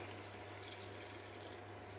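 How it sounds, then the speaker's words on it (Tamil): Water poured from a tap into chili powder for a village-style mushroom curry, a steady, even rush of running liquid filling the pan with a low hum beneath, continuous and alone for about two seconds. "கொஞ்சம் தண்ணி விட்டு வேக வைக்கலாம்"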